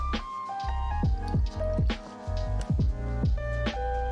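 Cranberry juice is poured into a cocktail glass, giving close, gurgling, bubbly liquid sounds with rising glugs and drips over a few seconds, without talk.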